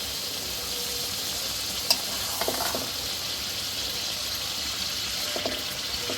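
Aair river fish being stirred into a simmering curry, a steady soft sizzle throughout with a few faint scrapes and taps of the spoon, no voices.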